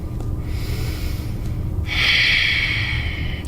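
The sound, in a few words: breathing during yin yoga pose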